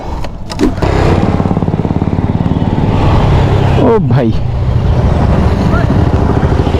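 Motorcycles of a wedding procession ride past on a road in India, their engines droning loudly and steadily with a close, rhythmic putter, while someone speaks briefly over the noise.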